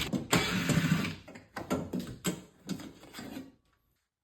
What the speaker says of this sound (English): you're going to remove all these Phillips screws from this access panel